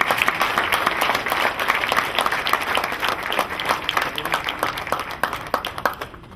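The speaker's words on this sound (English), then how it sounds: "A big round of applause." Sustained audience applause at a fundraising event during a 2007 visit by Chandrababu Naidu in the USA, dense crowd clapping filling the whole stretch at steady loudness before tapering slightly at the end.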